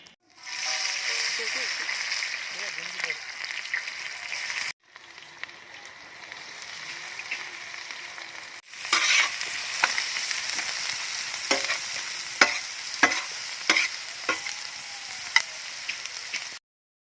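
Sliced onions fry in gingelly oil in a pan over a village cooking fire, with a steady loud sizzle and repeated scraping stirs of a spoon or ladle, broken by short pauses.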